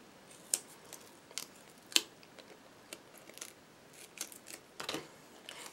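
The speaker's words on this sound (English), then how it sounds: "And I'm going to cut this piece in half." Scissors snip through a strip of foam tape in a series of crisp, close clicks and cuts, irregularly spaced and alone in a quiet setting.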